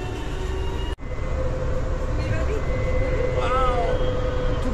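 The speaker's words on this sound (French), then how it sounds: "Je vais être parti dans le tram de Rennes." A tram in Rennes riding along, a steady rumbling rail hum from inside the car with a sharp knock near the start and a rising whine toward the end, with voices in the background.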